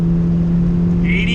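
A car engine, a fixed Honda EK hatchback with a new distributor, is held on the rev limiter, giving a loud, steady, droning hum that holds at one pitch throughout.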